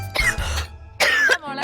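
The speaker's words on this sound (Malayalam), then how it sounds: "ചുമ" A person coughs three times in short, harsh bursts with gaps between them. The coughs are close and fairly loud, with no speech around them.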